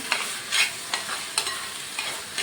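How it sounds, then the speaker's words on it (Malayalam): Onions sizzle gently in a pan for chicken curry while a spoon stirs them, scraping in repeated strokes about every half second, close and clear, with no talking. "ഇളക്കി വഴറ്റിക്കൊണ്ടിരിക്കാം."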